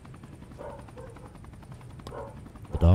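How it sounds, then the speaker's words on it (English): Dogs bark in the hangar area of the video game Super People, a scattered series of short barks at moderate distance under steady game ambience, ending in a louder burst of noise. "the dogs are barking."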